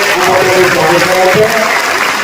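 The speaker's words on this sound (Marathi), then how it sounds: "टाळ्या गजरामध्ये" An audience claps loudly in a short, dense burst of applause at a Marathi talk, steady throughout with a voice faintly mixed in.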